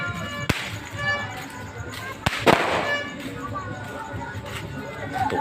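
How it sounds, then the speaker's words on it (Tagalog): Small neighborhood fireworks crack and pop outdoors, a few sharp distant bangs scattered over steady background noise while people talk nearby. "Uy, may fireworks oh."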